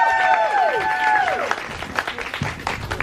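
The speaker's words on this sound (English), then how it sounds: "Let's give her a big, warm round of applause." Warm round of applause from an audience welcoming someone speaker, dense clapping with bright tonal sounds fading out early and a voice briefly over the claps near the end.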